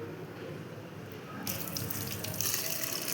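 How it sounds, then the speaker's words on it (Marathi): Tap water runs steadily into a vessel while mung and toor dal are washed in a kitchen, the flow growing brighter and splashier partway through. "तर आपल्याला आता डाळ स्वच्छ धुवून घ्यायची."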